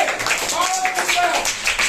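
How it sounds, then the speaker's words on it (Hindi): Schoolchildren in a classroom clap in a brief, uneven patter during a mental subtraction game, with a teacher's voice and children's voices running over the clapping. "वाह, वेरी गुड, ताली बजाइए।"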